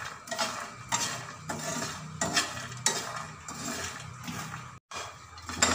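Makhana (fox nuts) fry in a pan while a spoon stirs and scrapes them repeatedly, clinking against the metal in an irregular rhythm over a soft sizzle, with one brief pause.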